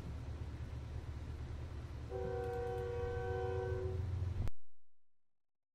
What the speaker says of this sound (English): I think the train's on, hopefully.